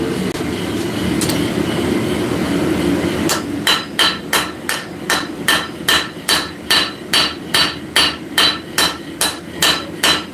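Hot metal being forged with the straight peen of a hammer, a steady series of loud, ringing blows at roughly twice per second after a quieter start in a hot workshop.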